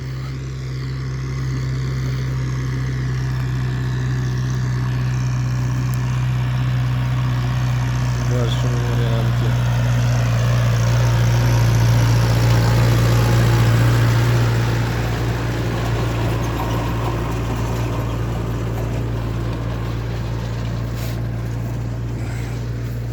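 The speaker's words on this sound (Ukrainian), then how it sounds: "трактор працює з сівалкою на другій повишенні" A tractor engine runs steadily while pulling a seeder across a field to top-dress wheat, a loud, constant low drone that swells slightly in the middle. Someone talks over it throughout.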